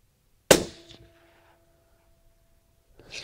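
A single suppressed bolt-action .223 rifle shot fired outdoors while prairie dog hunting, a sharp crack with a short ringing tail, then near silence before a faint sound at the end.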